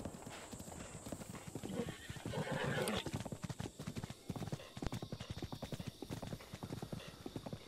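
Horse hooves clip-clopping in a steady rapid rhythm with a neigh in Breath of the Wild, loud and continuous throughout.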